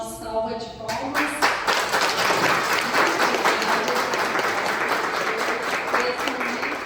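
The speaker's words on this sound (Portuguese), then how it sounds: "Temos Uma salva de palmas." A parish gathering breaks into a full round of clapping right after a brief voice ends. The applause builds quickly and holds strong and even, with the crowd close and lively.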